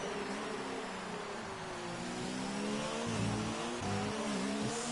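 F1 2019 race car on the Singapore circuit accelerating hard while overtaking its teammate, a steady high-pitched engine whine rising through the gears, loud and continuous with no talk over it.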